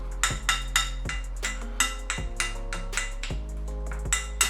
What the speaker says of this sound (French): Nous allons mélanger le tout comme ça.